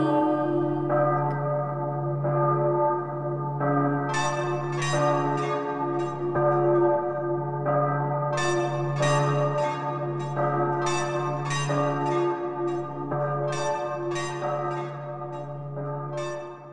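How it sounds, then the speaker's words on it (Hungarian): Church bells ring in a steady, sustained peal over a low continuous drone, with repeated bright strikes layered throughout and no talking. "harang húzatlan"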